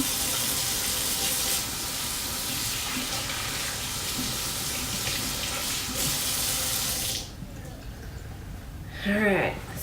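Tap water runs steadily into a sink while hands are rinsed, a close, continuous hiss lasting most of the clip before shutting off, with a voice briefly heard at the end.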